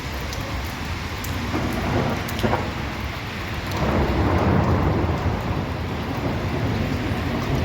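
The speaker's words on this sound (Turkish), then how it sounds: "Yalnız o kadar yağmur yağıyor hala hava sıcak." Heavy summer rain pours steadily in a dense, continuous hiss during a school PE class, with a low rumble of thunder swelling partway through.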